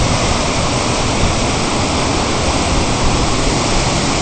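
Loud, steady rushing water at Grotto Falls, a dense unbroken roar of falling water close by with no voices and no distinct drips standing out.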